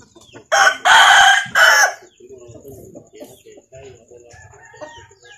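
A rooster crows loudly and close by in a long multi-part call, followed by quieter clucking and rustling from fowl nearby.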